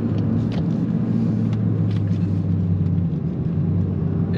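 Engine of a VW Golf MK8 pulling onto a freeway on-ramp, a steady close low rumble with a faint droning tone that holds evenly throughout, no voices.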